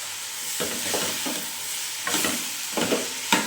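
Potatoes stirred into a hot frying pan for a palya dish, steady sizzling with repeated scraping strokes of a spatula, close and clear with no talk.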